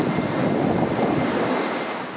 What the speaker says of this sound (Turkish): Şiddetli rüzgar alevleri körükledi